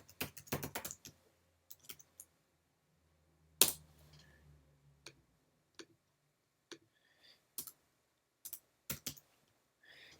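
Typing a login email address and password on a computer keyboard: sparse, crisp key clicks in short bursts separated by quiet pauses, with one louder thump near the middle, no voices.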